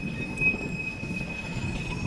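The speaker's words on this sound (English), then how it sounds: "I didn't fully record this train because, well, they're all hoppers and they look basically all the same." A freight train of hopper cars rolls past close by in Fostoria, Ohio, its wheels giving off a thin, sustained high squeal over a low, continuous rumble.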